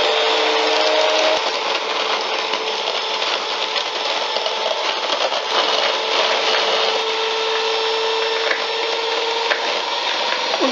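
An electric mixer beats batter for a marble butter sponge cake, giving a steady, loud, continuous whirring buzz with a faint scraping rattle and no pauses.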